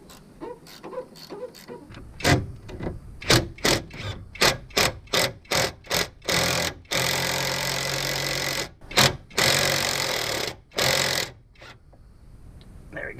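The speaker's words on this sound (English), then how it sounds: "then I'll be able to put the impact on" Impact wrench driving a nut during a front lowering spring install on a 4th-gen Camaro, heard as a rapid series of sharp, separate hammering bursts that build into longer continuous rattling runs, close and loud.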